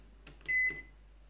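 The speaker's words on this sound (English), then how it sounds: "My microwave." A microwave oven gives a single short electronic beep, clear and close in an otherwise quiet room.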